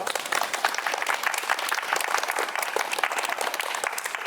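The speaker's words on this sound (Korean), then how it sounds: "여러분들 뜨거운 우리 코치와 강사들에게 뜨거운 박수 한 번 쳐주시죠" Residents at a neighborhood tennis class closing ceremony give coaches and instructors sustained applause, a dense, even wash of many hands clapping throughout.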